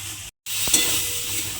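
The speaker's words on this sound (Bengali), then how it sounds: "ঝিঙেটা মশলার সঙ্গে খুব ভালোভাবে কষিয়ে নিয়েছি।" Ridge gourd sautéed with spices in a pan gives a loud, steady sizzle with a brief gap and a single scrape of a stirring utensil.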